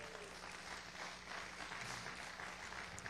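A church congregation applauds together, a steady wash of many hands clapping at an even level throughout, with a low hum running beneath and no clear voice on top.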